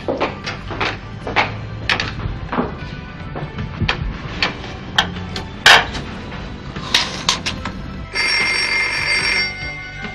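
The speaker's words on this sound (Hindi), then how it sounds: "बेटा देखना किसका फोन है।" A telephone rings in a home, with repeated bright rings that grow to a sustained ringing near the end, alongside cupboard or door clatter and household movement.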